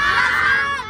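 A group of village children at Kadiya Sansi shout loudly together in one brief, sustained burst of high voices, close and loud.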